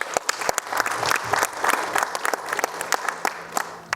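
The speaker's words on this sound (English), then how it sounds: "Please give a big round of applause for that." An audience at a campus speaker event on yoga gives a big round of applause, with dense, lively clapping from a room full of people, sharp individual claps standing out, and faint speech underneath.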